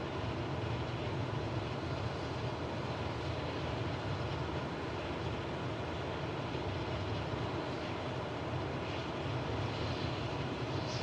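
Steady, loud airplane engine drone inside a small aircraft climbing to about 9,000 feet for a skydive in Microsoft Flight Simulator 2024 career mode, played in VR; a continuous unbroken roar with no talk.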